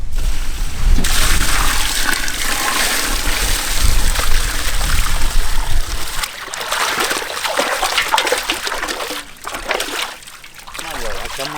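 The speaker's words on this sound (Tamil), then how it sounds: "நல்லா சுத்தமாக கழுவி எடுத்து விடுமுக்கா." Beef tails washed by hand in water for a village soup, with continuous splashing, sloshing and trickling close up while a person talks over it.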